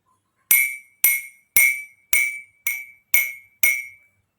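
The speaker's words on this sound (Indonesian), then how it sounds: "ambil sendok dan pukulkan ke masing-masing gelas dan lihat bagaimana bunyi yang dihasilkan setiap gelas" A spoon taps a row of drinking glasses in a sound-wave experiment. Seven evenly spaced bright clinks each ring out and fade, loud and close with silence between.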